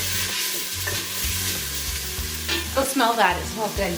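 Ginger tossed into onions frying in a pan, a steady sizzle with stirring scrapes, partly under a voice talking close by.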